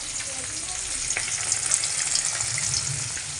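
Pieces of fish frying in a pan, a steady close hiss and sizzle of hot oil running continuously with small crackles throughout.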